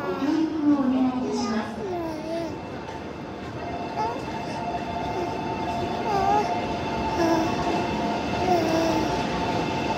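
A Shinkansen train at Tokyo Station rolls along the platform with a steady low rumble and some high wheel squeal, fairly close, while people talk over it throughout.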